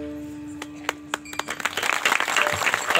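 Audience clapping at a kirtan, starting as a few scattered claps and building into steadier group applause over the last couple of seconds, moderately distant.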